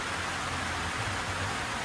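Heavy rain pours down at night in a steady, dense broadband hiss that stays even from start to end, with no voices.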